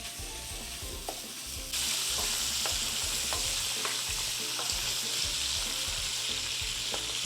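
Bacon frying in a pan as the first step of a Thanksgiving stuffing, a steady loud sizzle with intermittent scraping stirs and clinks, the sizzle growing fuller partway through.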